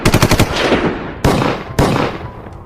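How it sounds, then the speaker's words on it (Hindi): Dramatized machine gun fire in a gangland street shooting at a crossroads: a rapid loud burst of shots followed by two more sharp blasts, each trailing off into echo, with no talking. "सतीश राजे को दाऊद के इलाके नागपाड़ा चौराहे पर गोलियों से भून दिया गया।"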